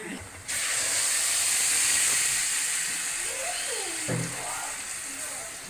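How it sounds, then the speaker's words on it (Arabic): Beans sizzle in a frying pan with a loud, steady hiss that starts abruptly and holds throughout, with faint voices in the background. "تخلي بالك بقى من التقلية بتاع الفاصوليا دي"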